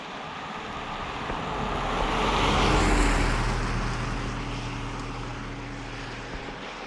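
State trooper car passing along a road, a broad whoosh that swells as it nears, peaks mid-way, then fades away, with no voices.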